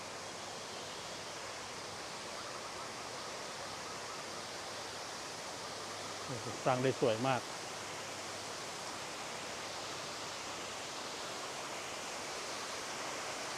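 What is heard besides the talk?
artificial waterfall flowing at Wat Tako temple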